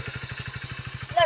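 A motorcycle engine thumps in a steady, even rhythm, close and moderately loud, with a brief voice near the end.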